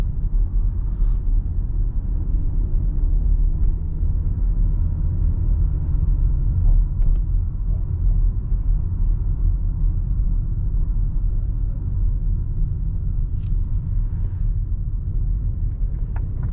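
A 2023 BMW X3 M40i coasts up the Brooklyn Bridge in New York City, with a steady, continuous low rumble of engine and road noise from inside the cabin, and no talking throughout.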